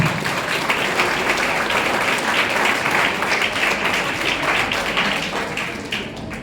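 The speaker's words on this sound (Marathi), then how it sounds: "या टाळ्या वाजवण्यासारखं काहीही नाही." Steady, dense clapping from an audience at a civic gathering addressed by a municipal commissioner, continuing loudly and evenly for the whole stretch with no voice rising above it.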